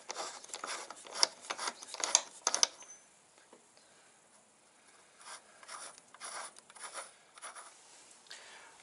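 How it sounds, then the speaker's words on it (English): A socket turned by hand spins a nut off the rear sprocket of a Ducati Hyperstrada motorcycle, giving quick bursts of light ratcheting clicks and metallic rattles, then quieter intermittent clicking after a pause. "put the socket on there by hand and spin that sucker right off"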